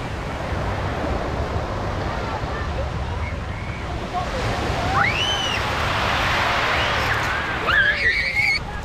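Sea waves wash onto the beach at Brighton in a continuous, breezy roar with wind buffeting the microphone. Gulls cry and squeal in bursts over the surf.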